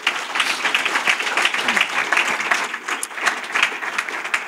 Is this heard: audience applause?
yes